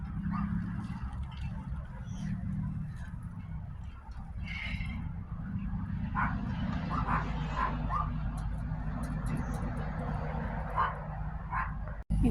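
A puppy barks and yips in bursts near a spring garden with big grapevine leaves, the short sharp calls scattered over a steady outdoor background with some voice nearby.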